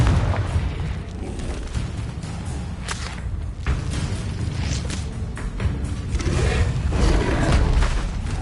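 Confringo fire spell bursting in Hogwarts Legacy combat, a dense run of loud booming blasts and fiery crackle layered over continuous game ambience with no pauses.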